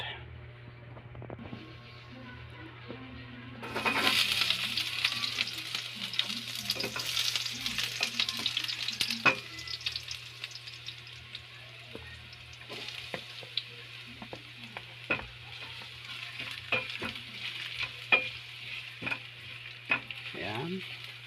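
Spicy shrimp sautéing in a hot pan as part of a shrimp-in-Sprite dish: quiet at first, then a loud, steady sizzle with bursts of spattering and stirring that ease into a softer crackle.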